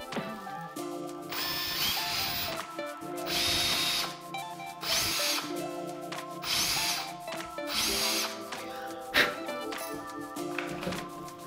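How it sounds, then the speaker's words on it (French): A power drill with an 8 mm bit bores into a wall to set hollow wall anchors for a shelf, whining steadily in close, loud bursts that rise and ease off repeatedly, with no talking. "on va utiliser un foret de 8 mm comme indiqué sur l'emballage de nos chevilles molies"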